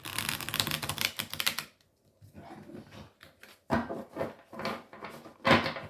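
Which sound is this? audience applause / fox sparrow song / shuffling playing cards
shuffling playing cards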